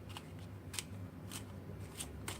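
A deck of playing cards being shuffled by hand, close up, with quiet, evenly spaced papery flicks and riffles over a low background hum.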